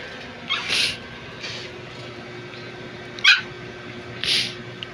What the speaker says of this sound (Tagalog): Yun, tahol ng tahol.